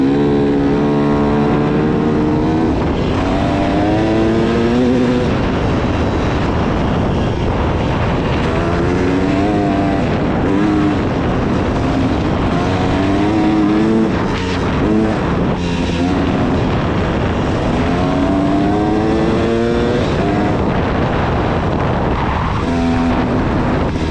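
Modified dirt bike engine revving hard while riding, loud and close, its pitch climbing and dropping repeatedly through gear changes and throttle bursts without pause, no talking.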